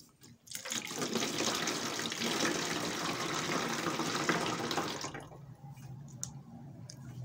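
Pineapple juice splashes and pours into a glass fermenter for rinsing, a steady rushing stream for about five seconds before cutting off to faint drips and handling noises.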